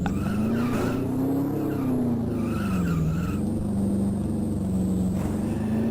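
Little yellow racing car in a Commodore Amiga racing game, a buzzy synthetic engine tone wavering up and down as it slides around, with bursts of tyre skidding layered on top, steady and loud throughout with no talk.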